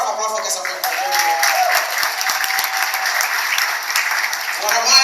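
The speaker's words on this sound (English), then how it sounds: "I want to say a round of applause for Casa Prepo." An audience at a content creators' meet-up in Africa applauds steadily and loudly for the whole stretch, with a voice talking over the clapping.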